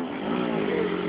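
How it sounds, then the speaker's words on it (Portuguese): A motorcycle strains to pull itself uphill through an industrial zone, its engine a continuous, loud, labouring drone that barely changes pitch, with no talking heard. "A moto se arrastando pra subir."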